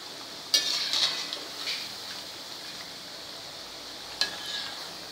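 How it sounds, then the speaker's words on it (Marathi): Kothimbir vadi, coriander fritters, fry in hot oil with a soft, steady hiss and gentle bubbling, punctuated by a few sharp clinks of a utensil against the pan. "फेस कमी झालेला आहे म्हणजे आपली वडी आता तळत आलेली आहे असं समजायचं."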